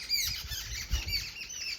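Faint, high chirping calls from birds scattered through the greenery around a resort near Jim Corbett, soft and distant over a low outdoor rumble, with no voices.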